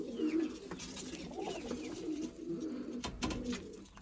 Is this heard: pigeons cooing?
yes